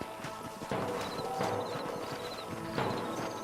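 Horses' hooves clopping as riders dismount in the video game Red Dead Redemption, a steady run of nearby hoof strikes layered with snorting and game ambience, no talk.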